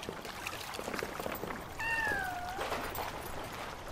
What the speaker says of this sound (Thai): เมื่อกี้ได้ยินเสียงแมว